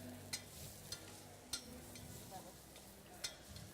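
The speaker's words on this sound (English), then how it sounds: "And I have here some minced garlic as well. Okay. Just gonna stir that through." Minced garlic stirred in a hot pan during a cooking masterclass, with a steady soft sizzle and several sharp scraping clicks of the utensil against the pan, fairly quiet and close.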